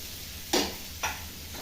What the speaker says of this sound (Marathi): चांगले तेलात फ्राय करणार आहे